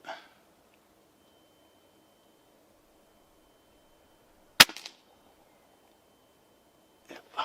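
A Gamo Swarm Magnum Pro air rifle fires a .22 pellet with one sharp, loud crack in an otherwise quiet setting, followed by a brief rattle, with other short clicks at the start and end.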